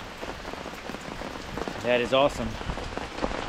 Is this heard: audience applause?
no